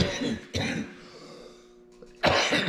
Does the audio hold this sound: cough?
yes